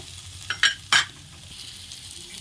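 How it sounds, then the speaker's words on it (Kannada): Garam masala and chilli powder fry in a pan for palak paneer khichdi, a low steady sizzle broken by a few sharp scraping strokes of a spoon early on. "ಸೊ ಇಲ್ಲಿ ಫ್ರೈ ಆಗ್ತಿದೆ."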